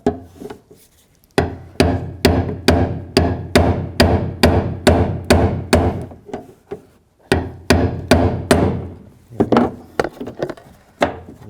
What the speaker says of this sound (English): What I'm gonna use is a brass punch. The reason you use a brass punch is so you don't get any sparks. And a hammer.